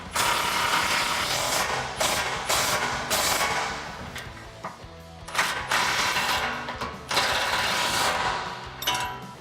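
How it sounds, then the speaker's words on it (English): Socket wrench ratcheting on an 18 mm bolt head of a 2016-2019 Toyota Tacoma rear bumper while a 19 mm wrench holds the nut, heard as quick close clicking runs with brief pauses, steady and without talk. "I'm going to use an 18 millimeter socket for the bolt head and a 19 millimeter open-ended wrench and box wrench for the other side"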